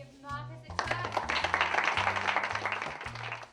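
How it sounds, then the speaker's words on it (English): A classroom of primary pupils claps for a classmate named Marcus, a dense burst of hand claps rising quickly and sustained for a few seconds, with a teacher's voice heard briefly at the start. "Let's give Marcus a clap."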